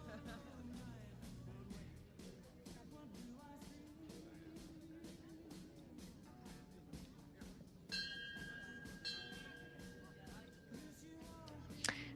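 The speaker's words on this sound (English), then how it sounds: "So the bell goes and Victor Skutecki is ready to go." A start bell rings out at an FEI Jumping Nations Cup Youth 2024 juniors show jumping competition in Zuidwolde, Netherlands: a sustained ringing tone lasting a few seconds over arena background noise and commentary.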